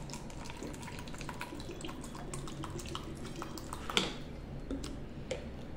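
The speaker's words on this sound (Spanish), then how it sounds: "voy a echar agua en estos 2 vasos" Water poured into a drinking glass, a soft continuous trickle with small splashes and a faint ticking patter, quiet and close, with one brief louder clink near the end.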